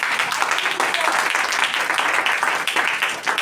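A church congregation claps for the Lord at a Hindi sermon, producing a dense, continuous wash of many hands that holds steady and fairly loud from start to finish.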